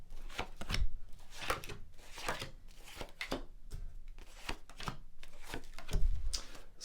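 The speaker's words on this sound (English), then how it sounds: "just going to lay down your 10 cards on the table" Tarot cards are laid one by one onto a table in a series of crisp, close slaps and soft shuffles, irregularly spaced, with no voice over them.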